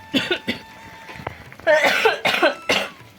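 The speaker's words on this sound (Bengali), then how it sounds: "প্রচণ্ড কাশি হয়ে গেছে" Someone coughs repeatedly in short, harsh bursts, a couple of quick coughs followed by a rougher cluster, close by with no talking.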